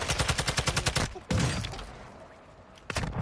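Rapid gunfire in a video game, a fast, loud train of about ten evenly spaced shots, then a heavy blast that rings and decays, followed by another sharp crack.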